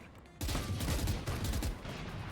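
Burst of rapid gunfire in an online shooter game, a dense rolling volley starting abruptly and continuing loud and close for about two seconds.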